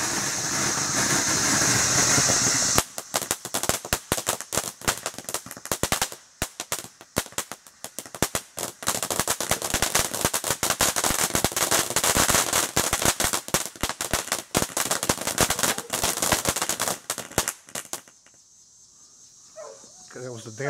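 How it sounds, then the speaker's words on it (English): A Dancing Night Fountain consumer firework goes off, starting with a loud steady spraying hiss, then a long dense run of rapid crackling pops and bursts lasting about fifteen seconds before it cuts to quiet, with voices faintly present. "That was the Dancing Fountain."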